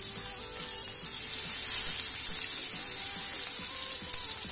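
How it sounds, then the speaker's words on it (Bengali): Chopped onions hit hot oil with whole spices (cardamom, cinnamon, cloves, bay leaf) for chola bature and fry in a loud, steady hiss and sizzle close by, with no voices. "দিয়ে দিলাম কুচানো পেঁয়াজ।"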